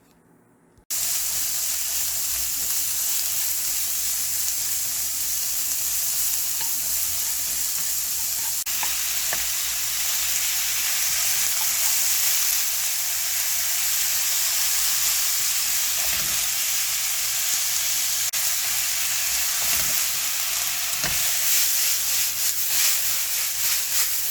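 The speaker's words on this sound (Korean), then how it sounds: "양파, 파를 넣고 살짝 볶은 후 쇠고기를 넣고 맛술을 넣어 볶은 후" Onion, scallion and beef stir-frying in a pan with oil, a loud, dense sizzle that carries on without a break after a brief quiet start, with no speech.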